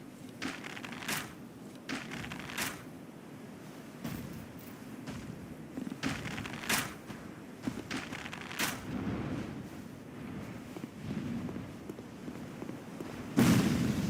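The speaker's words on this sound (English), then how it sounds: "Because that fire shoots out a giant explosion." Dragon fire explosions in Dark Souls 3, a series of sharp crackling bursts and pops scattered over a low rumbling bed, ending with a louder blast.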